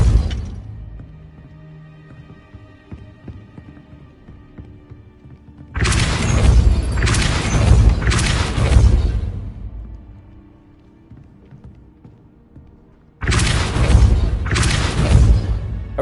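Blasts of the Depulso spell in Hogwarts Legacy, two loud booming bursts each with a quick doubled impact, separated by quieter ambient stretches.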